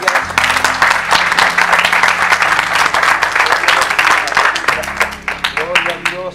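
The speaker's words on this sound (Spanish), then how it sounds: "Dele palmas al Señor." A church congregation claps during a sermon, loud dense applause running throughout with a sustained low musical tone beneath and voices calling out near the end.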